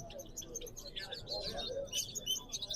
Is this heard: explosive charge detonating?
no